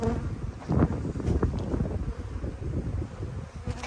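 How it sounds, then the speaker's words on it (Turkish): Wind buffets the microphone in low, uneven rumbling gusts at an apiary, with a faint buzzing of bees underneath. "Çok rüzgar vardı hiç anlaşılmadı ya"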